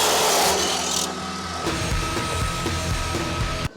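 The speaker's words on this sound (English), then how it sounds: "Let's move over to the drop saw because Tyler hasn't bought me a bandsaw yet" A drop saw cutting in a workshop while building a 4WD ute, with a loud whining cut in the first second and a half before the motor runs down into a rumbling, clattering spin-down.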